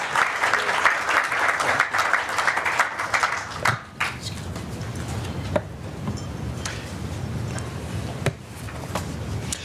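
An audience at a conference on interest rate benchmarks applauds to welcome Randall Kroszner, a former Federal Reserve governor. The clapping is steady and full for about four seconds, then gives way to quieter room noise with scattered knocks.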